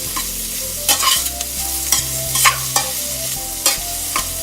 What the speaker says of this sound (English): And go ahead on and just saute the onion